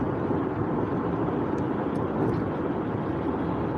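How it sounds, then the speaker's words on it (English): An airplane descends to land over a freeway, a steady broadband roar blended with road traffic, constant and fairly close with no clear rise or fall. "these airplanes flying and get ready to land"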